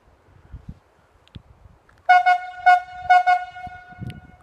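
A cable logging whistle for a standing skyline operation sounds the haul-back-in-the-hooks signal: a clear tonal series of short toots, two quick, one, then two quick, over faint background rustle.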